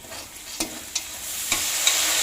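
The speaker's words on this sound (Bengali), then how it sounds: "তো অল্প জল দিয়ে তারপর সুন্দর করে ভেজে নিতে হবে।" Egg curry masala sizzles in a pan with a splash of water, a steady close frying hiss. A few sharp spatula clicks and pops punctuate it at irregular intervals.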